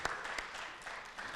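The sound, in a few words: audience applause for debate teams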